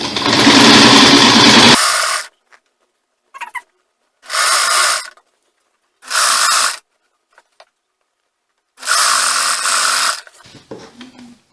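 Sewing machine stitching a straight skirt seam, running in several loud bursts of steady whirring, each one to two seconds long and separated by quiet pauses, with faint handling clicks in between.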